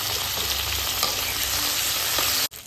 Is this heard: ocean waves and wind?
no